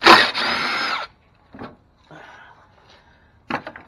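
A power tool whirs loudly for about a second while taking out bolts on a 2004 Chevy Venture radiator, then brief fainter tool bursts and knocks follow with pauses between.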